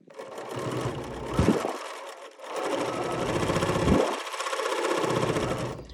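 A sewing machine stitches through fabric in two close, rapid mechanical runs, each ending in a brief slowdown. The motor's buzz and needle chatter sound loud and near.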